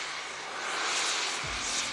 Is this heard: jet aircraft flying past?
yes